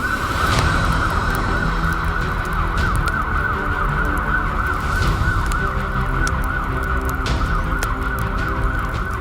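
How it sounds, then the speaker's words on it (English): Emergency vehicle sirens wail continuously and loudly during a wildfire in Israel, a sustained high tone with no speech over it. "Sirens scream as residents of Neve Shalom, Bikoa, and Beit Shemesh flee"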